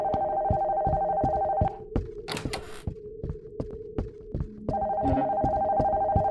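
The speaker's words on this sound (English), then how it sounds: "God damn, loud ass phone" An old telephone in an abandoned house rings loudly in long, insistent trills. A pause between rings is filled with creaks and knocking, then the ringing starts again, steady and harsh, close by.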